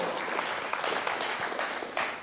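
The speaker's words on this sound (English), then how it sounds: "You can clap for that" A church congregation applauds, a steady dense wash of clapping that fills the whole stretch at moderate volume with no speech over it.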